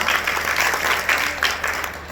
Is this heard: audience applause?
yes